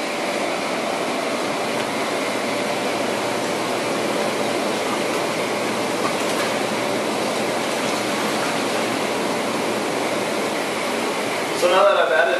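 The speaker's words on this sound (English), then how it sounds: "We're going to turn on our jets" Spa jets running and circulating water in a hot tub during startup: a continuous, even rushing and bubbling wash that holds steady throughout, with a faint clatter near the end.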